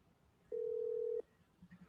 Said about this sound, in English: I double dialed the last one